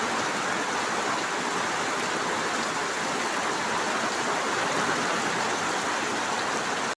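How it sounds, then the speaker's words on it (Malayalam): Heavy morning rain with wind pours steadily outside, a dense, loud, unbroken hiss that continues for the whole stretch with no voices. "നല്ല കാറ്റും മഴയും."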